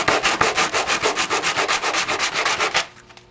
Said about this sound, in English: sand the bottom so it has a smooth finish